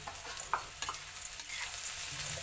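Peanut-sesame powder being stirred into ivy gourd frying in a pan, a soft steady sizzle with a few close spatula scrapes over a short stretch, no voices.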